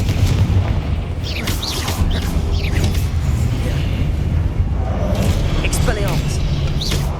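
Confringo fire-blast spell from Hogwarts Legacy bursts with a booming explosion over a dense, continuous roar of combat noise, with bright crackling flares scattered throughout.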